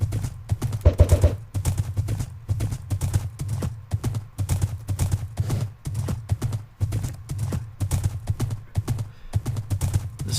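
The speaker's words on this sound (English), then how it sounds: "I just wanted to ride an upside-down horse." Horse hooves clip-clop steadily in Minecraft during a long ride across a server road, an even, repeating trot of soft thuds close by, with no talking over them.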